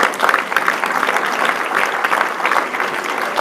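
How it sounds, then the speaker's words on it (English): Church congregation applauding, a close, steady patter of many hands clapping with a few louder individual claps, continuous for a few seconds. "Isn't that good when people clap?"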